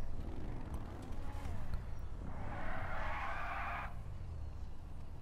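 A Kuruma car skids on the road in GTA 5 Online. A broad tire screech rises around the middle and cuts off sharply after about a second, over engine rumble and game noise.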